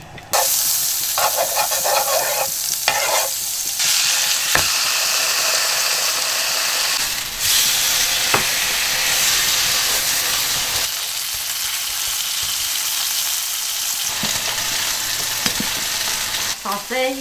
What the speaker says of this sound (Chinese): 黄油下锅